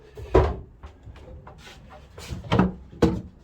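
Wooden cabinet doors clunk and creak open, with several knocks and rubbing scrapes spread over a few seconds, close and fairly quiet.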